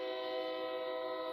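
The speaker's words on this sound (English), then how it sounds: "Damn train." A train horn blares steadily and loudly with a sustained multi-tone chord, alone without talk over it.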